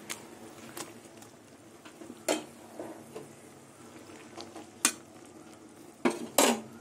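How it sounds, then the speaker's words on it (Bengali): Fried brinjal going into a pan of reduced duck egg curry and being stirred, quiet, scattered clinks and scrapes of a utensil against the pan over a low background, with several sharper knocks. "এবার আমি ভাজা বেগুনগুলো দিয়ে দেবো।"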